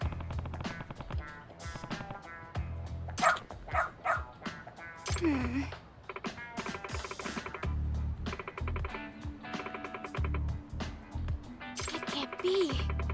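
Dog barking in the video game Lost Judgment, several short barks and yips scattered across a busy game soundtrack with talk-like sounds and other effects.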